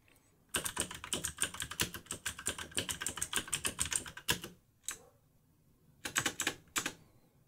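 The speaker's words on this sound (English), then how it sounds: "you feel like you're typing on a mechanical keyboard" Typing on an RK908 RGB mechanical gaming keyboard, with rapid, close clicky keystrokes in a dense run for about four seconds, then a single isolated press, a pause, and a short final burst.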